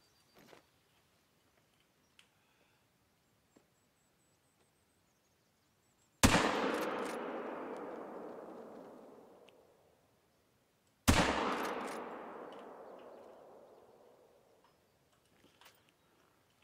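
Two loud rifle gunshots ring out in the hunting game Call of the Wild while a coyote is being hunted. Each is a sharp crack followed by a long rolling echo that fades over about four seconds, with faint clicks in between.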